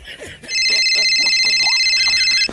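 A telephone rings in a Marathi comedy cartoon: a steady electronic ring runs for about two seconds, loud and close, with voices murmuring underneath.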